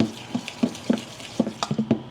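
Batter with salt and baking soda being mixed in a bowl for breakfast: a run of about nine short, distinct stirring clacks, some irregularly spaced, close up and alone with no talk.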